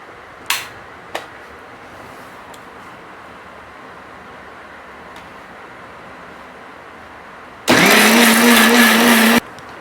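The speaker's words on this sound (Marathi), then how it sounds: "पहिल्यांदा वाटून घ्यायचं थोडं पाणी टाकून" A mixer grinder whirs loudly for about two seconds while grinding chutney with a little water, a sudden dense roar with a steady motor pitch that cuts off sharply, after a couple of faint knocks in a quiet room.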